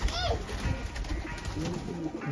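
Pigeons in a loft coo softly at close range, low murmuring calls running through the short stretch alongside faint background noise.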